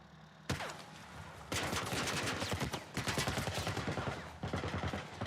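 Enemy gunfire in The Last of Us video game, heard as sharp repeated shots that turn into a dense, steady stream of rapid fire lasting several seconds and fairly loud throughout.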